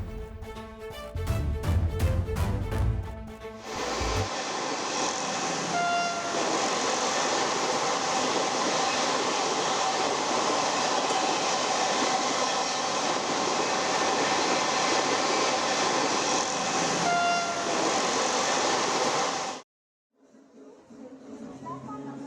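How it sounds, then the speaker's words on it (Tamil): A Vande Bharat express train rushes by with a loud, sustained roar of wheels on track, a voice speaking over it, then it cuts off abruptly. "வந்தே பாரத் ரயில் சேவையை பிரதமர் மோடி தொடங்கி வைத்து மாணவிகளுடன் கலந்துரையாடினார்"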